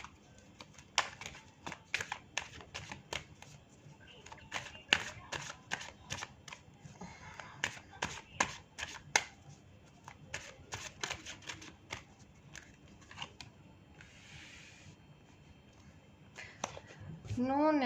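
A tarot deck is shuffled by hand, making a quiet, continuous patter of card flicks and riffles, with soft speech in places.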